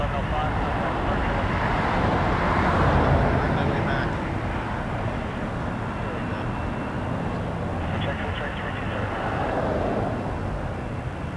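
An Air Canada Airbus A321 departs Toronto Pearson as a broad, steady jet roar that swells and fades in the distance, with a voice talking over it.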